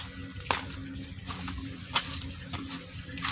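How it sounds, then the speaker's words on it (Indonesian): Rice husk is stirred by hand into coconut coir growing medium, giving soft, dry rustling and a few sharp scraping strokes at irregular intervals, fairly close but quiet. "Lalu kita aduk hingga merata."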